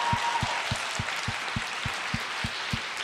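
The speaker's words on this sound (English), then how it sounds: "I want to give you a round of applause for that" An audience applauds in a steady, even wash of clapping, with a regular low thump pulsing beneath it throughout the short stretch.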